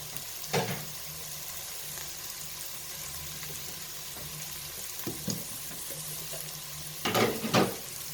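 Chopped green onions frying in a pan for a moussaka dish, a steady low sizzle with a few sharp scrapes and clatters, the loudest cluster near the end, close by and without talking.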